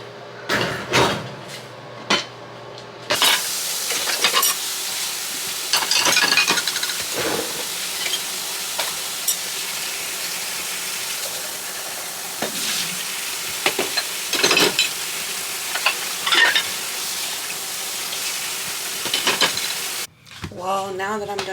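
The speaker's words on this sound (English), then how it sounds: "I will bust out these dishes now before I leave." Dishes being washed by hand at a kitchen sink in a new studio apartment, with steady running water and scattered clinks and clatters of dishware, close and continuous for most of the stretch.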